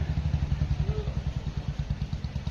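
A motorcycle engine runs steadily nearby with a rapid, pulsing low thrum and faint clatter, no voices over it.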